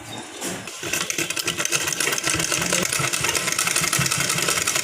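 An electric sewing machine stitches a golden border onto a round-neck blouse, starting after a brief quieter moment and then running in a fast, steady, close mechanical whir.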